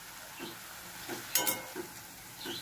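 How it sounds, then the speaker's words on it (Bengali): Dhoka lentil cakes fry in hot oil with a steady soft sizzle, a few brief clinks and bubbling bursts near the middle, close and fairly quiet. "আমার ধোকা ভাজা হয়ে গেছে।"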